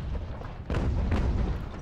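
A mortar fires in Ultimate General: American Revolution, two deep rumbling booms about half a second apart that are loud and close, rolling out over low background noise.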